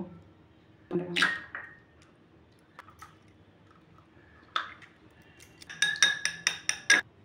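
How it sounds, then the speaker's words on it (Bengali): An egg cracked against a bowl for a Bengali egg mustard curry: a few sharp, quiet taps and clicks with pauses between them, in an otherwise hushed kitchen. "তো চলুন ডিমটা আমি প্রথমে ফাটিয়ে নেব"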